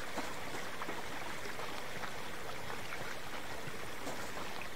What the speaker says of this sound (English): Water sounding nice.